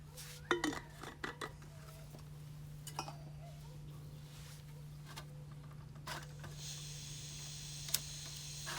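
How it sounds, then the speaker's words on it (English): Metal camping cook-set pots handled outdoors in the desert give a few scattered, faint clinks and knocks over a steady low hum, with long quiet gaps between them. "All right, guys, I've got my cook set out."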